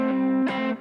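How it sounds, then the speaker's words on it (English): Distorted electric guitar plays two sustained pentatonic double stops, the second shifting slightly after the first, ringing close and clear with no talking. "The best double stops sound like this."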